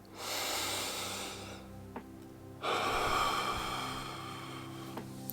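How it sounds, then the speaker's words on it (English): A single deep breath close to the microphone: a long, slow inhale followed by a pause and a long, airy exhale, calm and alone. "So let's take one deep breath."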